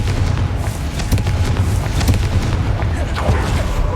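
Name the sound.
Confringo blasting curse explosion, video game Hogwarts Legacy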